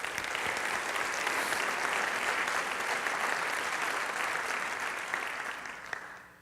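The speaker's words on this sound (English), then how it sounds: "Please, let's have a round of applause here." An audience gives a round of applause at a university president's fall address, a dense, steady wash of clapping from a large crowd that holds for several seconds and then fades toward the end.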